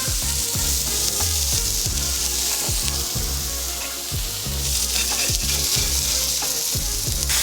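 A burger patty fries in a hot pan with a loud, steady crackling sizzle that runs unbroken throughout, along with faint rhythmic low knocks.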